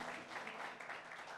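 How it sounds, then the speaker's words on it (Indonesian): A congregation claps together during a church worship service, a brief, soft, steady patter of applause heard from a distance. "Tepuk tangan Bapak Ibu tuh."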